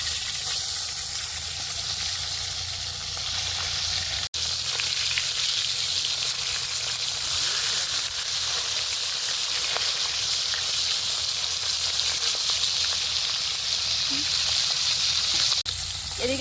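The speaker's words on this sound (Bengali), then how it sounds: "মাছ ভাজা হতে লাগবে ততক্ষণে কচুটা ভাজা ভাজা হয়ে গেছে" Taro sizzles in a pan with a steady, even frying hiss that carries on for a long stretch, broken by a single brief click partway through.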